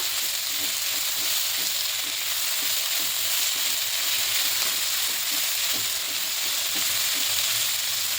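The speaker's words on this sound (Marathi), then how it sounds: "कांदा चांगला गुलाबी रंगावर भाजून घ्यायचा." Chopped onion fries in a pan for a Malvani coconut curry base, a continuous bright sizzle broken by scattered light clicks and scrapes of stirring, close and steady, with no voices.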